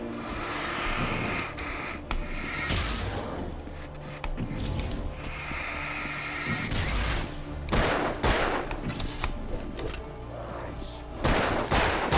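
Gunfire bursts erupt repeatedly during an Alan Wake fight, loud volleys punctuating a droning, engine-like background hum, with sharp clusters of shots spread across the stretch.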